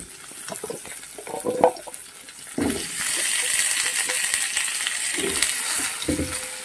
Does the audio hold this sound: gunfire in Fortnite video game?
no